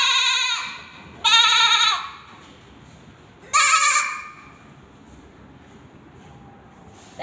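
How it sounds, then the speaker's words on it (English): A goat bleats three times in loud, nasal, quavering calls, with short pauses between them and a quiet background. "Then goat."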